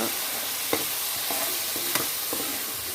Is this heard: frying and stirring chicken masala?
yes